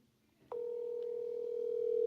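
A voicemail tone on a phone call sounds after a brief quiet moment: one clear, steady beep that holds unbroken and grows slightly louder until the end.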